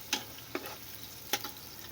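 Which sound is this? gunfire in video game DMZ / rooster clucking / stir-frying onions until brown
stir-frying onions until brown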